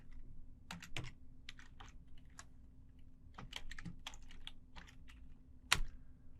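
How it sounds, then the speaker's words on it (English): Keys clack on a computer keyboard during a network-scanning demo, quiet, close clusters of keystrokes in irregular bursts with short pauses, ending in one sharper key hit like an enter press. "we're going to type in auxiliary"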